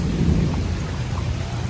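Heavy rain and rumbling thunder from a destructive thunderstorm in central Virginia, a steady dense roar with low booming energy throughout, close and loud with no talk.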